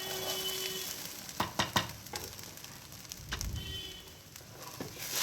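Rice being sautéed in a pan for navratan pulao, a soft continuous sizzle broken by a few scraping stirs and clatters, close and fairly quiet with no talking.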